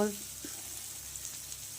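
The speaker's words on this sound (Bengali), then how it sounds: "এবার পেঁয়াজগুলোকে আমি ভালো করে ভাজা ভাজা করব।" Sliced onions, cut fairly thick, fry in a pan with a steady, soft hiss after a brief clatter at the start, close and fairly quiet throughout.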